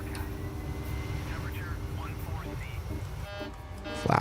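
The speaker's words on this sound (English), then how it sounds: "Let me try to take off once again here from this runway in full power" An airliner at full takeoff power in a flight simulator game gives a steady, loud, broad engine roar with a high whine, and faint voices murmur underneath.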